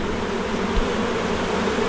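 A steady, close hum of honey bees around an open hive, with many dislodged bees dropped on the ground. The buzzing holds at an even level without any talking.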